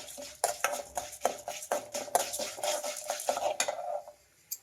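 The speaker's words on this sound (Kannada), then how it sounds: "ಎಲ್ಲ ಮೀಡಿಯಮ್ ಉರಿಲೇ ಇಟ್ಟು ನಾವು ಫ್ರೈ ಮಾಡಬೇಕು ಎಣ್ಣೆಯಲ್ಲಿ." A spoon stirs urad dal and pepper frying in oil in a pan for drumstick sambar, giving a quick run of metallic scrapes and clinks over a faint sizzle, close by, ending in a short pause with no talk.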